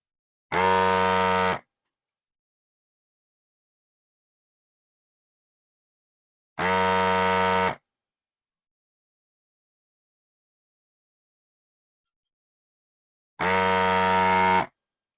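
A desoldering tool's vacuum pump sucks solder from a Commodore Vic-20 circuit board in three short, identical, loud buzzing bursts of about a second each. The bursts come at even intervals with silence between them.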